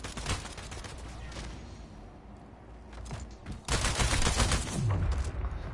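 Rapid bursts of gunfire from sniper rifles and other guns in a Splitgate match crackle through the mix, with shots clustered at the start and a dense, louder volley in the second half.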